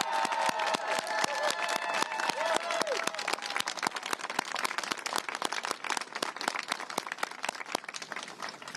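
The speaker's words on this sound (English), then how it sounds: "Let us applaud you." A large crowd at an outdoor pro-choice political rally claps steadily and densely for several seconds, with some voices faintly mixed in at the start.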